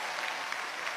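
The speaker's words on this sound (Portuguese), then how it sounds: "Uma salva de palmas para eles." Studio audience on a TV variety show applauding in a dense, continuous burst of clapping with no voices.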